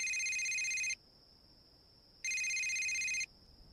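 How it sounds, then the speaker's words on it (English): A cell phone rings in two electronic trilling bursts of about a second each, separated by a pause with a faint lingering tone, clear and alone without talk. "Suddenly, Tim's cell phone rings."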